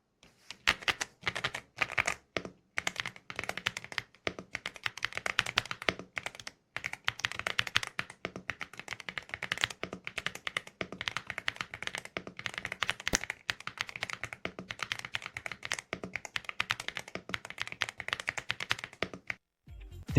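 A mechanical keyboard with dust-proof switches, set in a layout that drops the number pad for a small screen, typed on steadily at close range, with dense rapid clacky keystrokes and only brief pauses.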